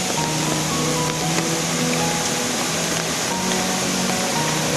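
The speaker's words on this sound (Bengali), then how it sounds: "এইটা ঝর্ণাটা উপর দিয়ে যেতে হবে।" A mountain waterfall stream on the Roopkund trek route rushes with a steady, loud, broadband roar close by, continuous and unchanging for the whole few seconds, with no voices.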